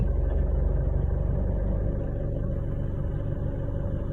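A 2018 Isuzu D-Max V-Cross pickup's engine idles at about 700 rpm, a steady low rumble with an even mechanical hum, close and continuous with no voices.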